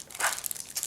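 Plastic wrapping crinkles and tears as someone pulls open a shrink-wrapped pack of board game expansion cards, a short close burst of crackling rustle.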